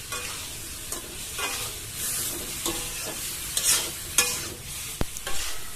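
Green beans and spices being stirred and sautéed in a pan for a fish curry with potato and tomato, a steady broadband sizzle with repeated scraping strokes of the spoon, close and fairly loud, no voices.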